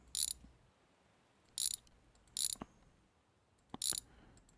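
In a car-repair simulator game, a ratchet removes cylinder head bolts in four short bursts of rapid clicking, each followed by faint knocks, with quiet gaps between them.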